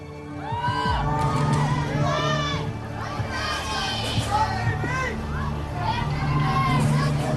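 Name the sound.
crowd yelling and cheering encouragement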